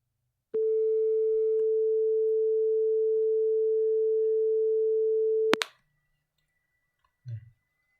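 A steady pure 440 Hz sine tone holds for about five seconds, then cuts off with a click; a brief low thump follows in near silence.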